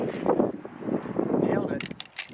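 A Winchester rifle fires, giving sharp, loud cracks near the end that follow a stretch of people talking in low voices.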